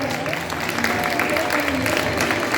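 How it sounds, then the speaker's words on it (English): An audience at a school annual day claps for the graduating class 5 students, a dense wash of applause from a crowd indoors, continuous throughout with faint voices mixed in. "A big applause to all of them"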